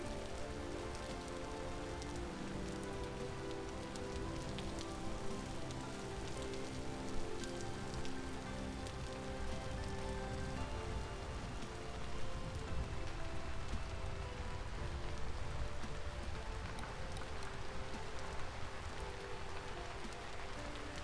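Heavy rainstorm in the survival game Vintage Story, a dense, steady hiss of rain pounding surfaces that holds for the whole stretch, with slight swells in intensity and no voices.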